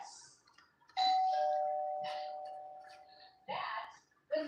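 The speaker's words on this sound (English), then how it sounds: "He jumped up on a doorbell." A dog jumping on a doorbell sets off an electronic ding-dong chime, a long ringing tone that slowly decays, with voices talking around it.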